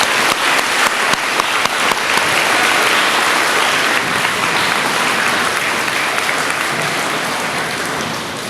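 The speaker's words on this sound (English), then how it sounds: "Would you guys please give her a big round of applause too?" A large crowd at an award ceremony gives a loud, sustained round of applause, a thick continuous roar of clapping that eases slightly near the end.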